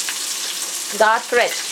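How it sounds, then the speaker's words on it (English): Onions frying in a pan for rice pilaf with meat, a steady close sizzle throughout, with a voice speaking briefly over it near the end. "The onions we're gonna fry until we're gonna get very, very red"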